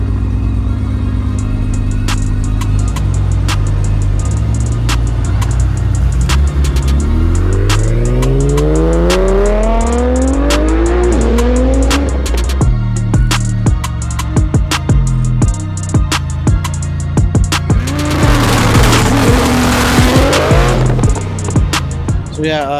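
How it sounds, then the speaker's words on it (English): A 1600 hp Nissan R35 GTR driven hard: a loud engine revs up through rising gears, then tires squeal and skid in long bursts, with sharp clicks and knocks scattered throughout. "Junior is out on a ride with Vic in that GTR"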